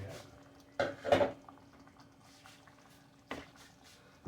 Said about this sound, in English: Now, we'll stir that in.